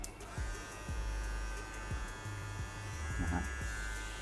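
A Xilda electric hair clipper runs with a steady, low buzz at constant speed. It is fairly quiet, with faint background noise and no pauses.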